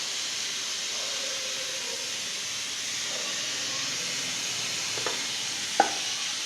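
Fennel seeds dropped into hot oil in a kadai give a steady soft sizzling hiss, with a few brief stirring clicks near the end and no talk.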